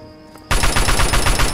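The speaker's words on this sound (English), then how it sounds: "I just have a machine gun" Machine gun fire in Fallout 3 erupts suddenly after a brief quiet moment, then continues as a loud, close, rapid, evenly spaced burst.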